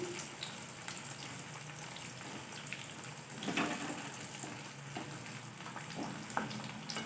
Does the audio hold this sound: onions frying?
yes